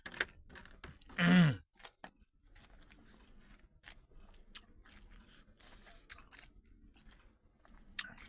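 Someone eats salad dressed with mayonnaise, close to the microphone, with soft wet chewing and small crunches running throughout and one louder burst near the start.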